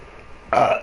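A single short, loud belch rises abruptly from near-silence, close to the microphone.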